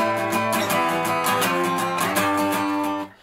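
An acoustic guitar strums an Irish reel at speed, a bright, driving, even chordal rhythm played close and alone, cutting off abruptly at the end.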